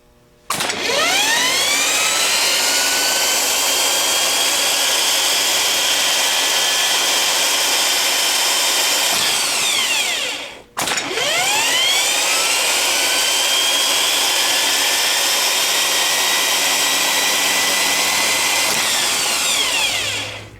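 A rebuilt Delco 39MT starter motor runs on the bench, spinning up to speed over about a second into a loud, steady high-pitched whine, then cutting out briefly near ten seconds and spooling back up to run again.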